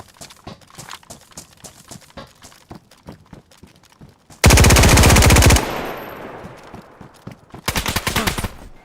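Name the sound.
gunfire in the video game DayZ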